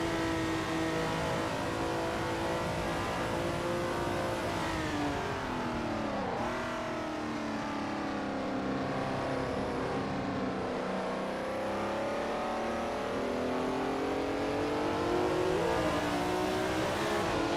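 A race car engine at the Le Mans circuit holds a loud, continuous, high-pitched roar that climbs and drops as it shifts through gears, with rising revs near the end and no voices.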